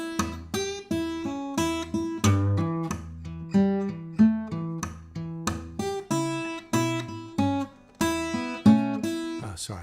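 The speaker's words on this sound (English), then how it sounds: "we've got the lick, we've got the bass line worked into the lick" An improvised lick with a bass line woven into it rings out on a pitched instrument, probably a piano, in clear separate notes and phrases. Low bass tones move under higher melodic figures at a moderate tempo, played alone without speech.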